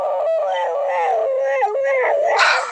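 A dog howls in a long, wavering cry, rising and falling with a brief break midway and a higher yelp near the end, close and clear.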